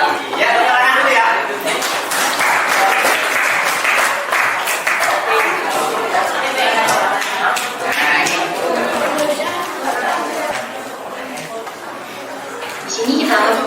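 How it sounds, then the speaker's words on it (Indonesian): A class of schoolchildren in a maths lesson claps together, with loud, uneven clapping mixed with children's chatter and laughter that rises and falls throughout. "Ya, tepuk tangan dulu ya."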